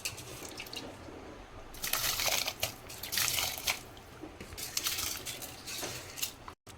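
Rice tipped into a pot of boiling water for bagara rice, giving bursts of pouring hiss and bubbling splash in uneven waves, close and fairly loud, with no talk.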